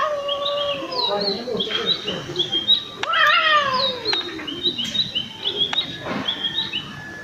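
A cat yowls and meows aggressively in long, drawn-out, rising and falling cries, loud and close, with chirping birds in the background.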